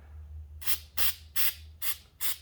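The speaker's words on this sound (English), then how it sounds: "I'm going to spray it, shake it up real well" Citrus paint stripper sprayed from an aerosol can onto a golf wedge on a workbench: five short, evenly spaced hissing bursts, close and distinct, over a faint low hum, with no talking.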